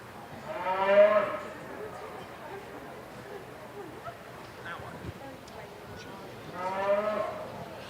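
Heifers at a junior beef cattle show let out two loud, drawn-out moos, one early and one near the end, with quiet arena murmur and shuffling in between.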